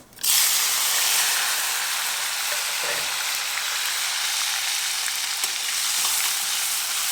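Cumin seeds dropped into hot oil in an iron kadhai, bursting into a loud, steady crackling sizzle that holds close and even throughout.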